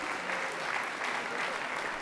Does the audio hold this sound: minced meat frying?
no